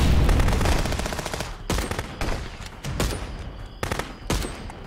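Automatic gunfire in Contraband Police: rapid bursts of rifle and submachine-gun shots come in several separate volleys with short gaps between them, loud and close, and no one talks.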